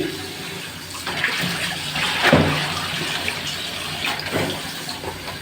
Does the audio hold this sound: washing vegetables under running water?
yes